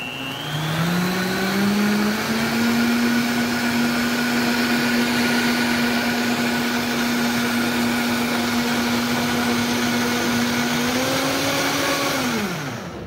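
Goldfish and Cheez-Its crackers ground in an electric grinder or blender, a loud continuous motor whine that rises in pitch at the start, holds steady, then winds down at the end.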